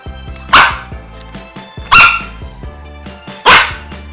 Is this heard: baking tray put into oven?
no